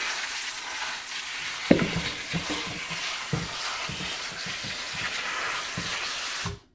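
Water runs and splashes while homegrown, pesticide-free herbs are rinsed clean of dirt, with a steady hiss broken by sharp taps and sloshing bursts of handling close by.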